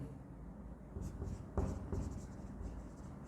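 Marker or chalk scratches on a board in short, faint strokes, close but quiet, with a few sharper taps and light background murmur.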